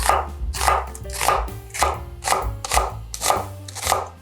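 A knife chops steadily through half an onion on a cutting board, about eight even thuds in a relaxed rhythm, close and clear.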